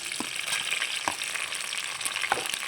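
Onion frying in hot oil in a kadai on the stove for egg curry, a steady close sizzle and crackle with occasional sharp pops and scrapes of stirring, no talking.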